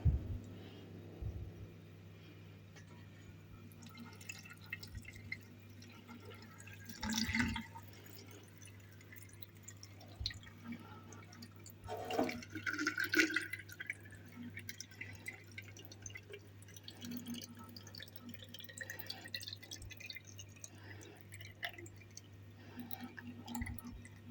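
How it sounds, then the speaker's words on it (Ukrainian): Marinade poured into a three-litre glass jar packed with tomatoes for cold-method barrel-style pickling, heard as faint dripping and trickling liquid in a quiet room, with a brief louder pour midway. "Відправили в баночку і заливаємо нашим маринадом."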